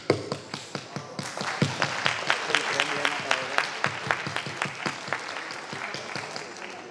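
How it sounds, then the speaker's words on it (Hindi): A one-handed clapping welcome at a Gita dance-drama stage event makes a quick, steady run of crisp claps for several seconds, with other applause and voices in the hall underneath. "आप सबका स्वागत राम जी भैया एक हाथ की ताली से करेंगे।"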